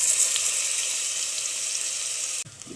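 Onions frying in a spoonful of hot ghee with cumin, a steady close hiss and sizzle throughout that cuts off abruptly near the end, with a brief soft clatter after.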